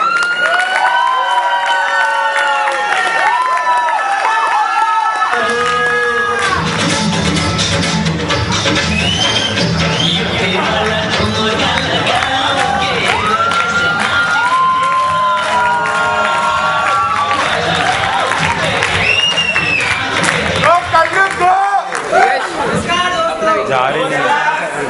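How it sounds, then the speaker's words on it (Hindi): A stage-show crowd claps and cheers loudly to welcome a leader taking the stage, with whoops and children shouting amid chatter, the din sustained throughout. "तो तालियों के साथ स्वागत करते हैं हमारे पहले नेता का"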